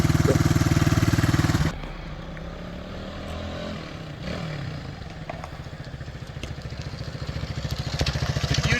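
A Honda CB 125S motorcycle idles loudly up close, then the engine note drops off as the bike pulls away. A faint mechanical rumble follows and builds again toward the end as it passes back by.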